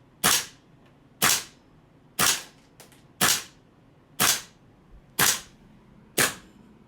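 Seven sharp, evenly spaced shots crack from a GHK AR gas airsoft rifle fitted with an RA-TECH magnetic locking composite loading nozzle, each a loud close pop with a quick decay, about one per second.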